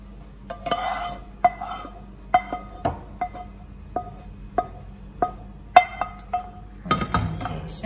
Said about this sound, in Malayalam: അപ്പോൾ നമ്മൾ ഈ കാരമൽ നമ്മൾ ഗ്രീസ് ചെയ്ത് വെച്ചിട്ടുള്ള പാനിലോട്ട് ഒഴിച്ചു കൊടുക്കാം.